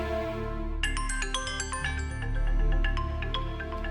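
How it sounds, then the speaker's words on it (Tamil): A phone rings with a melodic electronic ringtone in a Tamil TV drama scene, a bright repeating tune starting after a moment and continuing under low background music. "இவன் எதுக்கு இப்ப போன் பண்றா?"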